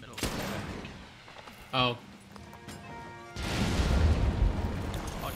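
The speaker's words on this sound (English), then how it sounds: "Yeah, cluster bomb." Cluster bomb explosions in the video game Monster Hunter World: after a quieter stretch with a short exclamation and game tones, a loud, dense rumble of blasts erupts and carries on to the end.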